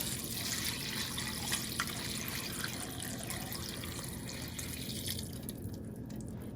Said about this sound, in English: I'm gonna add enough water to cover it.